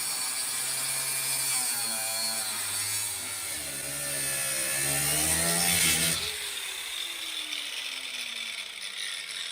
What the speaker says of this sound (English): it was easier just to cut the very thin body panel away rather than cutting through the 1/2 inch steel of the hitch